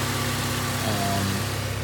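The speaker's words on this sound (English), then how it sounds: "the exhaust sound, it actually sounds pretty tame" Honda Accord CB7 fitted with a K20 engine and a 3-inch resonator idling: a steady, low, tame exhaust drone with a constant hum and faint whine, heard up close without talk.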